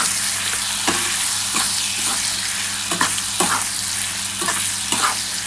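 Raw mango and green chilli stirred in hot oil over low heat, an even dense sizzle with rhythmic scraping strokes of a spoon across the pan, close up.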